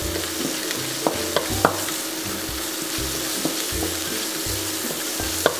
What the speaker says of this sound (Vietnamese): Mình phi lên cho nó thơm mà nó vàng